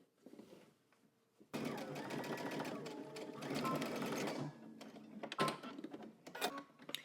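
A sewing machine stitches a folded waistband closed along a 5/8 inch seam allowance, running in bursts of rapid mechanical whirring and clatter separated by brief pauses, close and clear.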